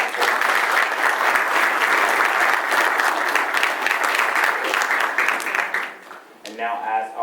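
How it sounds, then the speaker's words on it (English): Dense, sustained applause from a conference audience for a student facilitator, loud and steady for several seconds before tapering off as a voice begins speaking. "we'll give him an applause round of applause."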